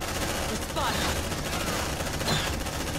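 Sustained suppressive gunfire in Aliens: Dark Descent, a continuous rattling barrage with a voice speaking briefly over it.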